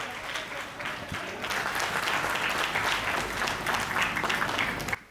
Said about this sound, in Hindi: दोनों हाथ उठाएं, जोरदार तालियों में तब्दील करें विनोद पाल